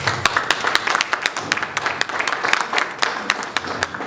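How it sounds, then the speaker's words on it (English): An audience at a Nigerian power-sector dialogue event claps to welcome the moderator. Dense, lively applause rises and falls for about four seconds, with individual hand claps standing out sharply. "let us welcome the moderator, Muyiwa Abiodun, with a round of applause"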